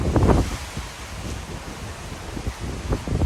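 Strong wind gusts roar across an outdoor campsite in loud, buffeting waves, with heavy low rumble from the wind striking the microphone and surging bursts at the start and the end.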